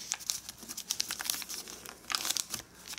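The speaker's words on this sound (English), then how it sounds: "let's fold this whole bottom edge down" Close, soft crinkling and crisp rustles of origami paper units being folded and creased along a bottom edge, a steady run of small papery crackles with no talk.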